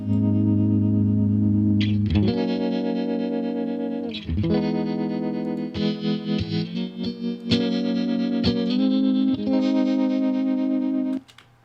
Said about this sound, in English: So I'll switch back between the tremolo and vibrato